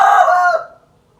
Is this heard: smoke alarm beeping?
no